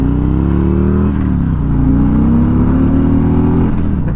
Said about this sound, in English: This is a Street Glide Special 2020.